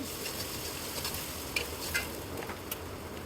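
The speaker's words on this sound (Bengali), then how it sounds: "তারপর আমরা এখানে আদা বাটা এবং রসুন বাটা দিয়ে দিয়েছি" Ginger and garlic paste fries in mustard oil, a low continuous sizzle broken by a few light scrapes of a stirring spatula.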